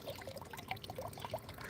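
Water drains and pours down into a pool in a small backyard summer project, a quiet continuous trickle with soft bubbling plops throughout.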